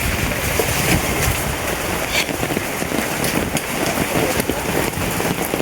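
Rain falls steadily in a loud, dense patter, close and continuous with scattered sharper drops and spatters against a surface throughout.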